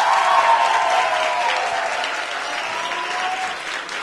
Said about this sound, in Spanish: Camila Moreno, un aplauso.